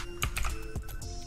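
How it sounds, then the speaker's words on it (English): Numbers are typed on a computer keyboard, with a handful of quick, close key clicks in an uneven burst, fairly quiet, with no voices. "and let's just type that in"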